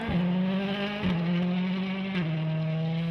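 Ford Fiesta rally car on a gravel stage in Yorkshire, its engine holding a steady loud drone that drops briefly at each gear change, three shifts in quick succession with no voices.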